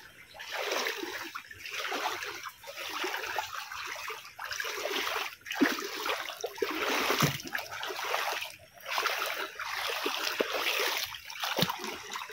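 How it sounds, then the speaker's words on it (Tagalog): Clear stream water flowing and splashing continuously at moderate loudness, with a steady bright rush and brief dips, no talk. "yung tubig na umaagos"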